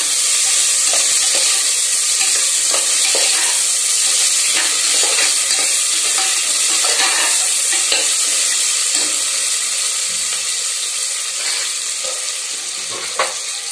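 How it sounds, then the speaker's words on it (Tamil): Chopped onions fry in a pan of hot oil with fennel seeds for tomato rice, giving a loud, steady sizzle broken by repeated scraping stirs, with no one speaking. "இப்போ நாங்கள் வெட்டி வச்சுருக்க வெங்காயம் போடுறோம்."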